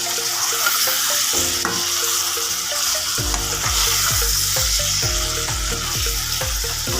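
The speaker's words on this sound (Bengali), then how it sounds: "এখন ঢাকনা উঠিয়ে একটু নাড়া দিয়ে নেব সবজিগুলোকে।" Mixed winter vegetables stirred in a hot frying pan, a loud continuous sizzle with scraping strokes of the spoon at a steady rhythm, close up and without any talk.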